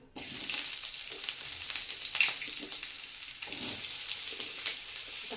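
Chopped onion frying in oil in a wok, a steady close sizzle with brief crackling bursts and soft stirring, continuous throughout with no talking.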